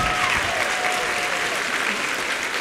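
Audience applause following a lecture on fluid dynamics and paper planes, a continuous even wash of clapping from a crowd at moderate distance, unbroken for the whole stretch.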